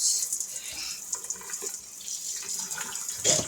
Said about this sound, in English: I'll give this a good rinse